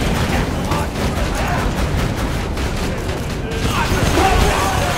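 Grenade launcher shots in Borderlands 2 boom out as a dense, continuous barrage of gunfire and blasts, filling the whole stretch at steady loudness.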